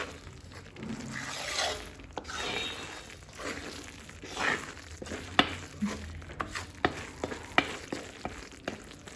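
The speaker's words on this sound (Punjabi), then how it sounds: "ਤੇ ਇਹਨੂੰ ਹੁਣ ਅਸੀਂ ਚੰਗੀ ਤਰ੍ਹਾਂ ਭੁੰਨ ਰਹੇ ਹਾਂ" Gram flour (besan) roasting in a pan for colostrum barfi gives a soft, continuous dry rustle and gentle sizzle, with a spoon scraping and stirring in irregular strokes and occasional sharper taps against the pan.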